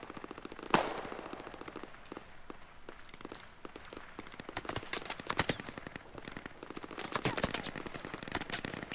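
Gunshots in the military video game Operation: Crazy Horse (SquadOps), a loud nearby crack followed by bursts of rapid automatic fire and scattered single shots from distant positions.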